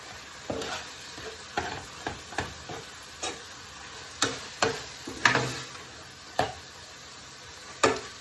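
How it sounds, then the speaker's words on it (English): Mince beef filling with ketchup is stirred in a pan, producing a series of irregular scraping, clacking strokes over a soft sizzle, with no talk. "I'm going to give that a stir in"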